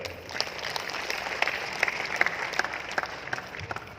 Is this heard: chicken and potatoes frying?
no